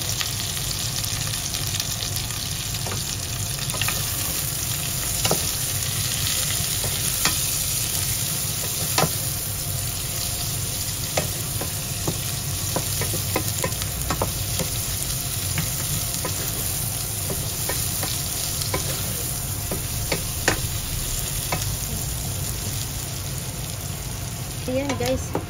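Onion fries in a pan for a bamboo shoot adobo and is stirred throughout. A dense, continuous sizzle is heard, with scattered spoon scrapes and taps against the pan.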